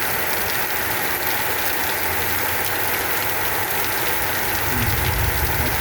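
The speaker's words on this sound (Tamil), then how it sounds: "வவுனியாவில் அடித்து கொண்டு இருந்த வெப்பத்துக்கு தணிக்கிறதுக்கு மழை வந்திருக்கு" Rain falls steadily in Vavuniya, a constant broad hiss of drops on surfaces with a low rumble beneath it and no pauses.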